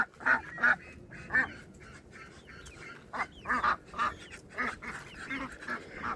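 Several ducks quack repeatedly nearby in short, uneven bursts, with goose-like honks mixed in over low background noise.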